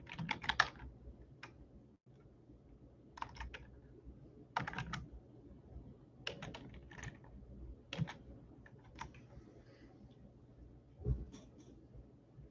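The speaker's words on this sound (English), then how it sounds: "let me type it in here." Quiet bursts of computer keyboard typing arrive in short clusters with pauses between, each a rapid run of light clicks over a low steady room hum, with no voices.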